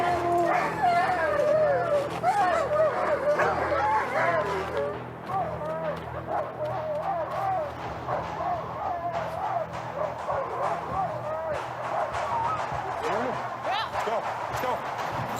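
A team of sled dogs barks, yips and whimpers in an excited continuous chorus, loud and close, with people talking over the commotion.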